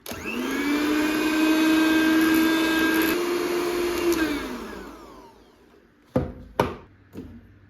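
A loud electric hand mixer beating eggs and sugar for brownie batter whirs steadily for about five seconds, then winds down and stops, followed by a few sharp clunks and knocks.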